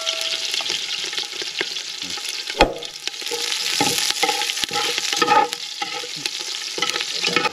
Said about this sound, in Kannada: ಆನಿಯನ್ ಚೆನ್ನಾಗಿ ಫ್ರೈ ಆಗಿದೆ ಆಯಿಲ್ನಲ್ಲಿ